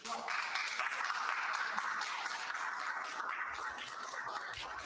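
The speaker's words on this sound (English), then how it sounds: "pause for applause." Steady, fairly distant applause greets the president and vice president as they step into a room on the Senate side of the Capitol at a presidential inauguration; a voice talks faintly beneath the dense clapping.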